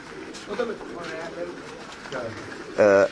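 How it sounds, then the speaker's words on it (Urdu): Paired pigeons on a rooftop coo softly in the background, with one louder, close coo near the end over a murmur of voices. "یہ ہم نے کبوتروں کے جوڑے لگائے ہیں"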